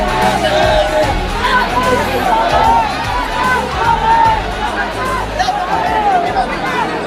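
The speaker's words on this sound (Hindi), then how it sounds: "यहाँ पर भीड़ लगी हुई है इतनी।" A large crowd gathered to meet Chandrashekhar Azad during a visit to a victim's family in Mathura fills the space with a dense, loud murmur of many voices, steady for the whole stretch, with no single voice standing out.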